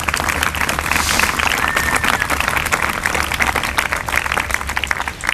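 A round of applause from an outdoor crowd at a peace gardens dedication ceremony, dense and loud clapping that holds steady for several seconds without pause.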